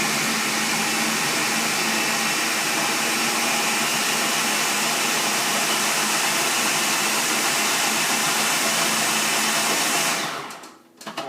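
A food processor runs steadily, chopping roasted peaches and onions into a paste for peach barbecue sauce, a loud continuous whirring blend that holds for about ten seconds before winding down and stopping.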